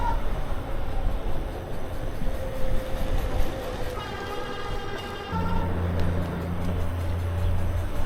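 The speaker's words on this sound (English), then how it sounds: "You hear that motor back there? It's kind of loud." A Revi Bikes Rebel 750W e-bike with its rear hub motor running, giving a steady close hum and whine throughout amid street and wind noise, with rising tonal whirring partway through.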